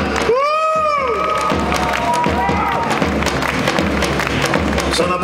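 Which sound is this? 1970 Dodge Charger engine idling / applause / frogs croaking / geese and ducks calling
applause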